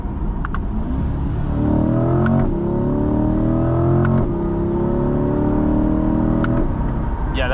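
A 2023 Chevrolet Corvette Stingray 3LT with Z51 and its V8 engine, heard from inside while driving: a steady low rumble with rising drone tones as it accelerates through gears, with a few faint clicks over the top.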